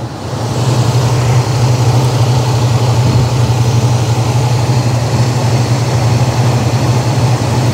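Car engine with an electronic Quadrajet carburetor idling, a loud steady low hum with a constant drone and faint roughness, holding evenly after a brief start, with no talking.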